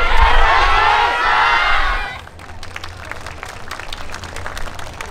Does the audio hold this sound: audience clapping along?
yes